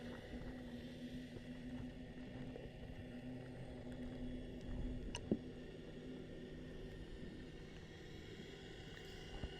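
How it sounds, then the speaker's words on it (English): Boat engines hum faintly underwater in Port Phillip Bay during a scallop dive, a low steady drone with a tonal throb beneath bubbly water noise and one brief click. "You could probably hear, if you tried to listen really hard, the engines of other boats humming in the background."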